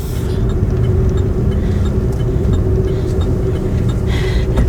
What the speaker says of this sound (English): It's actually my first time driving this car by myself.